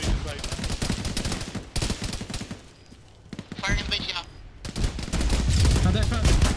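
Dense, rapid machine gun fire and other gunshots ring out in an ArmA-style ShackTac military game, loud and close, with a brief lull in the middle. Voices talk over radio between and under the firing.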